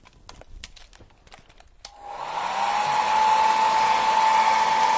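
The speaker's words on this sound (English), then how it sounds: "So we're going to hit it with the blow dryer." After a few faint taps, a blow dryer switches on and runs with a loud, steady whirring hum while drying stenciled paint on a paper page, holding constant to the end.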